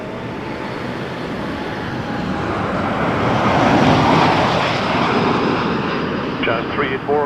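A Jazz airliner lands on runway 24 left at Toronto Pearson, its broad engine roar swelling steadily and peaking midway, with voices talking over the rumble near the end.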